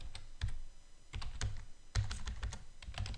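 A password being typed on a computer keyboard during a router login: a close, quiet run of quick uneven key taps with small pauses between clusters, heard alone.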